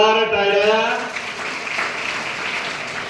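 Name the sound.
applause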